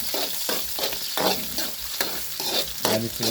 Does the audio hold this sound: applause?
no